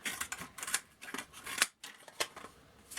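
EDC scissors snip through a stack of four cardboard layers, a series of sharp, crisp crunching cuts in irregular rhythm, close and fairly loud, with a brief silent pause midway.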